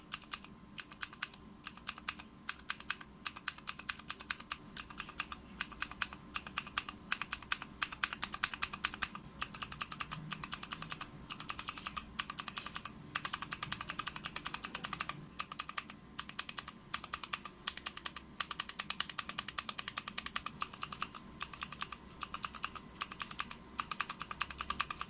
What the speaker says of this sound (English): Here's the sound test from different types of clicky switches before and after lubing them.